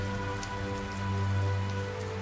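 Steady rain patters continuously on a surface in the Tales of Zestiria video game, a dense even hiss with a low tonal hum beneath, no talk.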